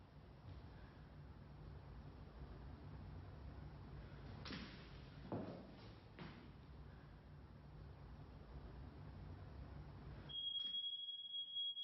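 A smoke or fire alarm sounds a sustained high-pitched electronic tone that starts suddenly near the end, following a couple of thumps and faint scraping over a steady low hum in a quiet room.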